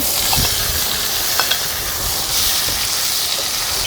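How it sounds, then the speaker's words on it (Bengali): Chopped tomatoes hitting hot oil in a pan of boal fish curry, a loud, broad steamy sizzle that holds fairly evenly with a few faint clinks, without talking. "দিয়ে দিচ্ছি টমেটো কুচি করা।"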